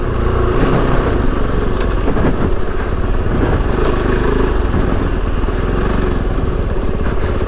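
A 2023 Kove FSE 450 R Rally motorcycle riding down a steep sandy hill, its engine droning steadily and loudly throughout with wind and rough terrain noise.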